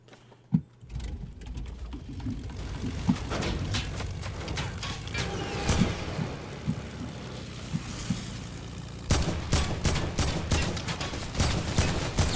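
Gunfire in the Fortnite video game comes as dense bursts of rapid shots, mixed with sharp single cracks and a constant rumble of game noise. The firing is strongest and most clustered toward the end.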